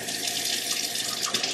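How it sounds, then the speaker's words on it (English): Cool tap water running steadily over basil leaves at a sink, a close, continuous splashing hiss with no pauses. "I am rinsing the basil leaves with cool water."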